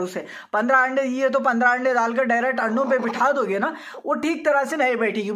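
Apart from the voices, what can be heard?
No distinct noise like a dog, phone or traffic.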